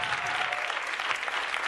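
Loud, close audience applause at a live music show, steady and dense clapping throughout with faint crowd noise mixed in.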